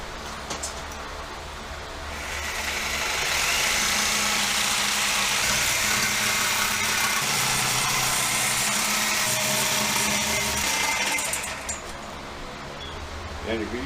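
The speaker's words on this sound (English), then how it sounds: "I am going to get a sawzall in there and do that" A sawzall reciprocating saw cuts through a Ford 9 inch axle housing in a backyard, a loud, sustained rasping buzz running for about eight seconds between quieter shop noise at either end.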